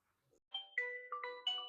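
A phone rings for an incoming call with a melodic electronic ringtone, a few bright synthetic notes rising and repeating in quick phrases, clear and alone against silence.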